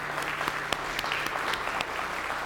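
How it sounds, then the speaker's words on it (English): An audience on an old Skagway street car tour claps together, a steady close patter of many hands over the whole stretch with no voices. "Give yourself a round of applause."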